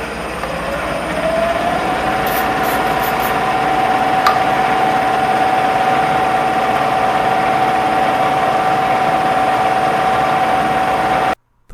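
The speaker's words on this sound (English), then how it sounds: "when I hit the play button, it'll retract for a tool change, start the spindle, and then proceed to the start location to start cutting" A CNC machine spindle spins up with a rising whine that levels into a steady, loud, sustained tone, carried over a broadband machine hum. It continues unchanged until an abrupt stop at the end.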